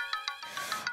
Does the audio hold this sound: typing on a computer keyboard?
no